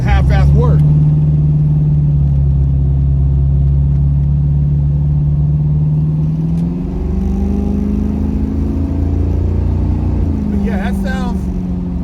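A carbureted Porsche 928 engine runs loud and close with a deep, steady rumble whose pitch rises partway through; a voice briefly cuts in near the start and end.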